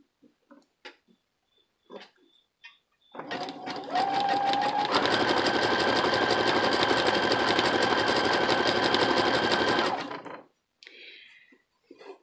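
A sewing machine runs a wide zigzag stitch over beads with a beading presser foot: a few slow, single hand-turned stitches, then a steady, loud motorized whir for about seven seconds before stopping.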